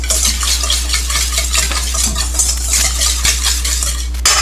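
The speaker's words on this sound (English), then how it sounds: "Whisk this together." An olive oil mixture with about two tablespoons of oil is whisked in a bowl for chili-spiced avocado salsa, giving a close, continuous rapid scraping and rattling over a low steady hum, with no talk.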